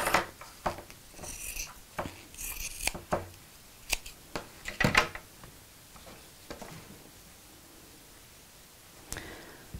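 Fabric being cut straight across the bottom of a piece for a sewn backpack: a run of crisp snipping, slicing and rustling strokes, close and moderately loud, clustered in the first half and then thinning to a few scattered cuts.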